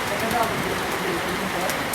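Steady rain pours down heavily on a farm in Turkey's inland Black Sea region, a continuous dense patter on surfaces close by, with a voice faintly underneath.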